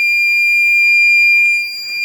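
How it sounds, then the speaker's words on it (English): Electronic beeping from a key programmer plugged into the OBD2 port of a 2007-2014 Chevy Silverado 2500HD, a steady high-pitched tone held throughout with a brief extra chirp near the end, close and fairly loud. "Let's wait 60 seconds until we hear a solid beep from the programmer"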